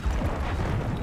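A Hellstorm missile strike in Black Ops 6 rumbles as a dense, continuous low boom, heavy and sustained rather than a single crack, filling the whole moment with no voices over it.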